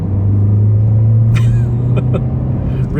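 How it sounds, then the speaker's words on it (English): A 2022 Hyundai Sonata Limited's turbocharged engine hums as a steady, loud drone from inside the car under acceleration, with a few faint clicks and rattles over the continuous tone. "You can hear the engine."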